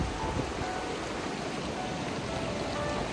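Rain falling near the Ganges at Gangotri, a steady, even hiss of drops that carries on without a break for the whole stretch, close and fairly loud, with no voices.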